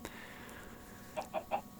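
Chickens making a few short clucks near the end, three quick bursts over a faint quiet background with no speech.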